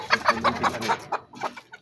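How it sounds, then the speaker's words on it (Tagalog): A pet chicken clucks close by in quick, short, choppy bursts, about eight clucks in under two seconds with a brief pause near the end, alone without talk. "Ito pa ang aking manok po."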